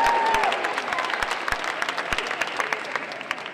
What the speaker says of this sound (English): give them a round of applause, all of our volunteers